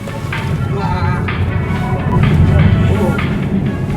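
Tesla Model 3 on all-weather tires cruising along a Seoul expressway, giving a continuous loud road and wind roar inside the cabin, with someone talking over the noise throughout.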